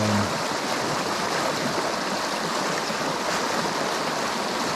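Swift water of a stream at a fishing spot rushes in a steady, loud broadband roar that stays even and close throughout, with no voices.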